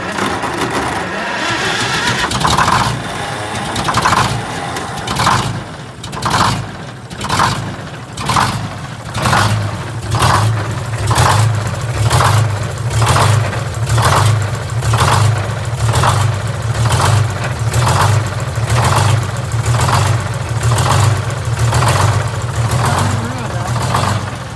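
A GM 4104 bus with a Detroit Diesel 6-71 engine running rough and missing, its generator making a loud racket with a steady rapid knocking over the low engine drone, while someone talks over it.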